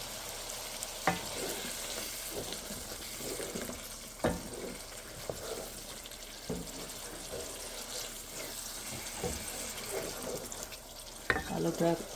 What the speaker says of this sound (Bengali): আলুটা আগে একটু কষিয়ে নেই